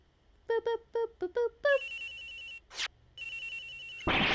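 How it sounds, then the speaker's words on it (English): A phone rings in a detective adventure game: a series of short, bright electronic ring bursts in quick succession, then a sustained tone, a brief swish, and a noisy burst at the end. "Agent Hicks' phone! It's ringing from somewhere, sir"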